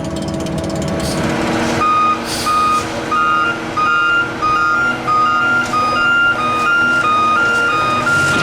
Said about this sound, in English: we're going to take a look in back of this pumper truck